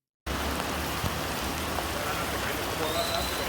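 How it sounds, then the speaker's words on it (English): Heavy rain pours at Patong Beach, Thailand, a dense, steady hiss of drops striking surfaces that starts abruptly and stays loud and close throughout. "the rain was intense that day"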